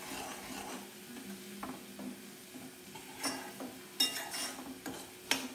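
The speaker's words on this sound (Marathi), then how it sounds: "आणि वाटण पण चांगला भाजून घ्यायचं" Ground masala paste being roasted in a pan while stirred, soft sizzling with irregular scraping and clinking of the spoon, close up, louder toward the end.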